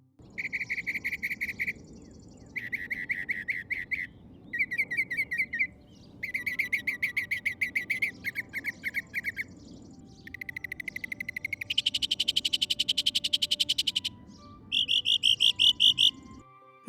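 Rapid trilling chirps repeat in pulsed bursts of a second or two, steady and fairly clear against quiet low background, set in a marketplace where people and birds gather.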